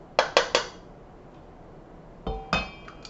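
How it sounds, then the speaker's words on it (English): A spoon clinks sharply against a bowl while finely chopped apple is stirred into muffin batter: three quick close taps, a pause, then another cluster of clinks. "So I'm just going to stir in my 3/4 cup of apple."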